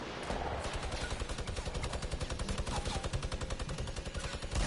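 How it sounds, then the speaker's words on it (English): Rapid gunfire from the video game Fortnite rattles in a fast, even burst of sharp repeated shots, dense and continuous throughout at moderate loudness, with no talking. "I'm getting sniped at the same time."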